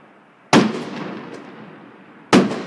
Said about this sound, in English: The fireworks are hitting the glass.